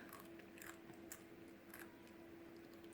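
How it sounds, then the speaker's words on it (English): A young child munches potato chips from a bowl at close range, with soft irregular crunches and chewing bites scattered over a steady background hum. "I don't know if y'all can hear her chewing on her chips."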